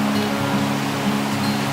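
Huckleberry Creek flows through the woods with a steady, dense rush of water, close by and continuous, with no voices.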